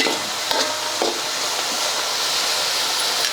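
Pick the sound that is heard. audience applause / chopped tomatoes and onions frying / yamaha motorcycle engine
chopped tomatoes and onions frying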